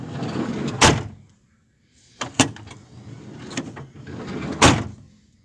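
The sliding and front doors of a 1996 Mercedes Vito 638 van shut with several solid thuds close by, the last one a hard slam, over a faint background rumble.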